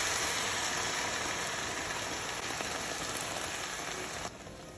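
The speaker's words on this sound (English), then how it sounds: "We're gonna add in our masala wine to deglaze the pan." Marsala wine poured into a hot pan of browned mushrooms, a dense, even hiss of sizzling that runs throughout, then drops off abruptly near the end.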